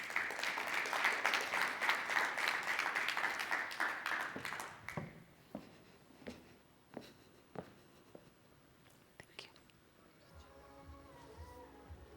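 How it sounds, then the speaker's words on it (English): Conference audience at a business banking dialogue breaks into loud, dense applause that rolls on for about five seconds, then thins into scattered individual claps and a few footsteps as it fades toward quiet. "Let's give Nikki a big round of applause as she comes up, please."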